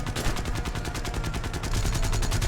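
Rapid bursts of aircraft gunfire from gunners aboard a plane in War Thunder, a steady loud rattling stream of shots lasting throughout with no pauses.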